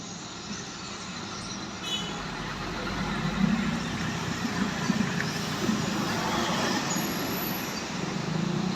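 A Putra Pelangi bus travelling behind a tanker truck on a busy road, a continuous rumbling roar of heavy engines and tyres that swells slightly as the vehicles pass amid general traffic noise.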